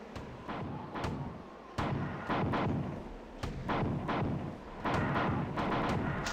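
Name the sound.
grenade launcher explosions in the video game Marathon 2: Durandal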